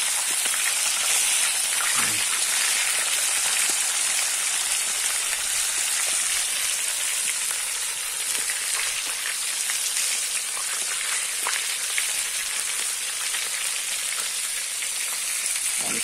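Chicken frying in a disc pan beside a river, a loud, continuous close-up crackle and sizzle of hot oil that holds steady throughout without any voices.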